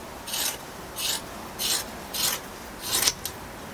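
Scissors cutting laminating fabric along a thread in a straight line, five separate rasping snips in a steady rhythm, close and moderately loud with no talking.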